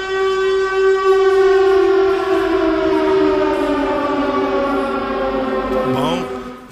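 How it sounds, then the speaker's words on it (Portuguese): A civil-defense style siren blares loudly inside a church, holding a steady wail before its pitch sweeps down and cuts off near the end. "E pode tocar o alarme aí, pode tocar a sirene"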